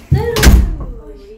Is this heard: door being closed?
yes